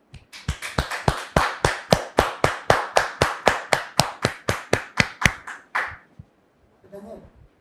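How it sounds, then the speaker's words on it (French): A church audience applauds in welcome of a pastor, a steady run of roughly twenty close, sharp handclaps at an even rhythm over about six seconds, then stopping with a faint murmur of voices after. "le père de notre sœur, Daniel, sous vos applaudissements."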